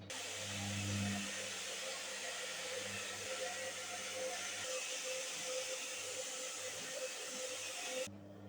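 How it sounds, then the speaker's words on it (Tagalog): A hair dryer blows hair dry after a haircut, giving a steady, close, full airflow roar with a low motor hum that runs unbroken for about eight seconds before it cuts off. "nag-blower na tayo"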